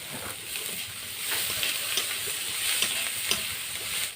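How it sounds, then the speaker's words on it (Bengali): Jackfruit seeds fry in mustard oil with turmeric, chili powder and salt, giving a steady sizzle with soft stirring scrapes throughout, close and moderately loud with no talk. "কাঁঠাল বীজটা আমার বেশ ভালো করে ভাজা হয়ে গেছে।"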